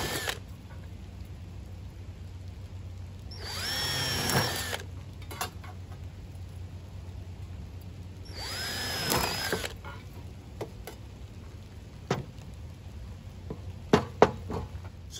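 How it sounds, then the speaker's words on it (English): A drill boring 3/4 inch holes through the sheet metal of a hobo stove, heard as two distinct bursts of drilling a few seconds apart, with a handful of sharp knocks and taps in between. "I'm just going to drill 3/4 inch holes, like from the center and the middle and then on the end."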